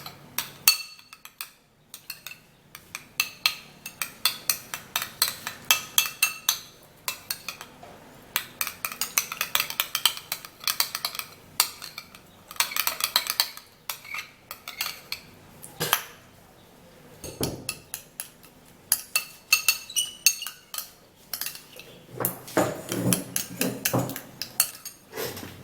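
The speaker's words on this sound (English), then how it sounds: "So now, after all the 4 ingredients is mixed properly, you would have to stir it all up" A spoon stirs a homemade eyebrow growth mixture made from four ingredients in a small dish. Clustered clinks and scrapes of metal on the container come in uneven bursts with short pauses, close and fairly loud, with no talking.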